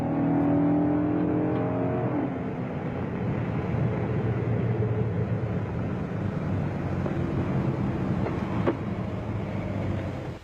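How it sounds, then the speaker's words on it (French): A 1969 Dodge Charger Hemi Daytona with its 426 cubic inch Hemi engine roars past at speed, a loud revving note that climbs and then settles into a sustained rushing drone. "cette voiture est lourde et très rapide puisqu'elle est dotée d'un moteur de 426 pouces cubes à culasse hémisphérique"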